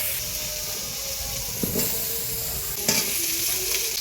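Bottle gourd stems and potato fry in a spiced masala, giving a steady close sizzle with a few brief scrapes and knocks as the mixture is stirred.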